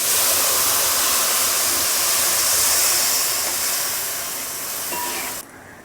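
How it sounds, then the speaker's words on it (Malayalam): Three cups of water hit hot Kerala-style duck roast masala in the pan, giving an immediate loud, steady hiss of steam that fades slowly and cuts off abruptly near the end. "ഞാനിവിടെ 3 കപ്പ് വെള്ളമാണ് ആഡ് ചെയ്യുന്നത്"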